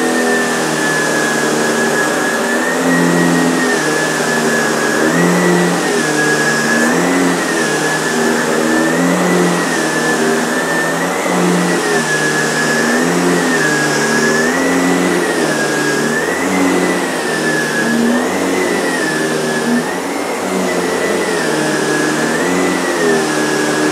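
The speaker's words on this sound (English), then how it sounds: "Let's have a quick first run of this SEBO E3 Premium." A SEBO E3 Premium upright vacuum cleaner runs on a short-pile carpet, a loud, close, continuous motor whine whose pitch wavers gently up and down as it is pushed back and forth.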